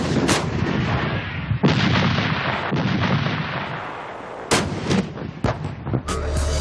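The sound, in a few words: AS-90 Braveheart self-propelled artillery gun firing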